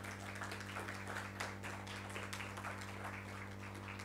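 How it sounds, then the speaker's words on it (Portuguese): An audience at a corporate and startup panel event claps for a speaker. The applause is faint and distant, a steady patter of many hands under a constant electrical hum. "salva de palmas para o Léo"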